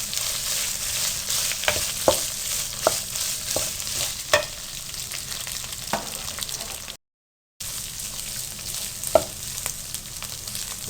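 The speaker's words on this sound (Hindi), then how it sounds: "अब आपने 2 मिनट के लिए इसको अच्छी तरह से फ्राई कर लेना, ताकि चिकन अच्छी तरह से गल जाए।" Chicken frying and being stirred in a pan for macaroni, with a steady sizzle and repeated sharp scrapes of a spoon against the pan, cut by a brief silent gap.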